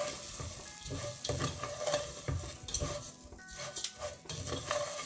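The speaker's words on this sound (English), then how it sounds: "we have to roast it until they turn into like really nice light brown in color" Crushed vermicelli (sevaiya) roasting in a pan over medium-low heat for a sweet Eid dessert, with continuous dry scraping and stirring strokes and a light sizzle, close and steady without speech.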